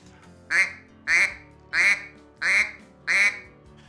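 Five evenly spaced, flat-toned quacks from a duck call blown with the tongue held low and little air pressure, close and alone, each a short, loud burst.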